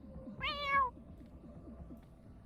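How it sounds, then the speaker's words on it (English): A single cat meow in The Sims 2 game, a rising then falling cry of about half a second, loud and clear over a low murmur of background game music. "Oh, look, there, cat showed up."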